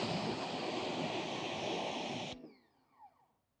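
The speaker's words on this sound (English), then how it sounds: "but let's pressure wash it off" A pressure washer rinses a car wash pad with a loud, steady hissing spray that cuts off abruptly near the end, leaving a faint drip and rustle.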